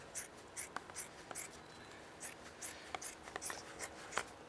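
Scissors snip through leather during a wooden chair restoration, a string of short, crisp cuts at an uneven rhythm, close and fairly faint.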